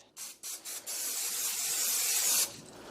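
A few short bursts from an aerosol cooking spray can lead into one longer hissing spray, close and fairly loud, ending abruptly.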